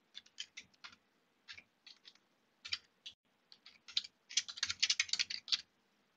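Crisp computer keyboard typing into a text document in irregular bursts of clicks, building to a fast flurry of keystrokes near the end, close and fairly quiet.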